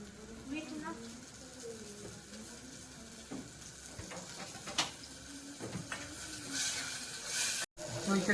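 Masala sizzles in hot oil on a gas flame turned to full while it is stirred for Maggi, with a steady crackling hiss and occasional scraping under a voice.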